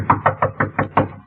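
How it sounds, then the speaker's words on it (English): Knocking on a locked apartment door in an old radio suspense drama: six evenly spaced, firm knocks close by, alone with no voices. "The door was locked, so I knocked."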